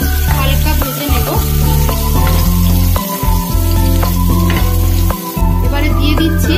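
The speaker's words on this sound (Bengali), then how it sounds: "হালকা ভেজে নেব" Finely chopped ginger and garlic fry lightly in warm oil, a loud close sizzle with a low steady hum beneath and a few brief stirring knocks, no speech.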